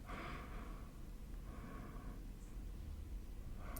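A person breathes normally during a stethoscope chest exam, heard as slow, soft, close-up airy inhales and exhales under a faint steady hiss.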